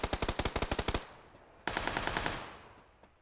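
Gunfire from a gun in PUBG: a rapid string of about ten sharp shots, then a pause and one louder blast that rings out and slowly fades.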